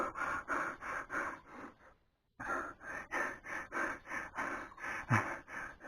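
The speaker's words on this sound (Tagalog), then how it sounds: "Hingal talaga ako." Heavy, rhythmic panting from a cyclist after a steep uphill ride, close and breathy in regular gasps with a brief pause midway.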